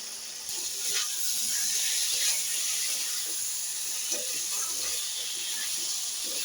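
Fried potatoes sizzle in spice paste in a pan for a fish curry, giving a steady, fairly faint hiss that continues without break, with small clinks from stirring.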